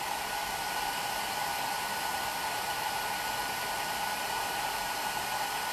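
A hair dryer blows steadily and close, drying a plaster Ganesha piece coated in open shellac, a constant whooshing roar with no break and no voices.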